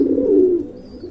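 Gorra Rajgolla pigeons give a low, throaty coo that swells and fades over about a second, close by and heard alone.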